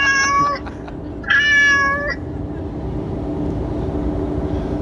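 Two clear cat meows, the second longer and louder, rise over a steady low background rumble, then fade leaving only the hum.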